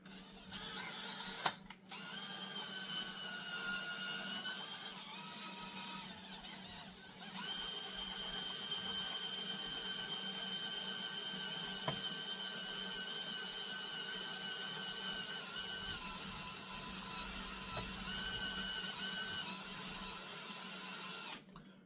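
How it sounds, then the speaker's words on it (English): A power drill runs steadily for about twenty seconds, drilling into a lowrider bicycle part, a high whining motor tone with slight pitch shifts as it bites into material, close by with no talking. "Hopefully we don't break the drill bit."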